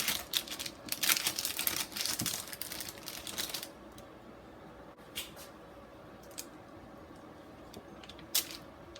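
A knife cuts the ends off a tray of chocolate orange brownies for a Halloween platter: a dense run of crisp, crumbly scraping and crackling strokes for several seconds, then a few sparse, quieter taps.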